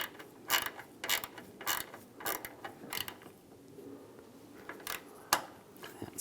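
A ratchet tightens the bolts on the wiper transmission of a 2007-2013 Chevy Silverado, giving a run of separate, sharp clicking strokes with short pauses between them, close and fairly quiet.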